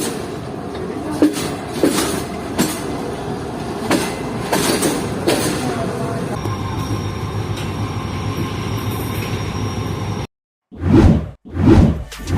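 A train passing on the Ludhiana–Khanewal chord line in Pakistan, heard as a loud, steady rumble and rushing clatter of wheels on track, then after a brief cut two sharp whooshing passes close by.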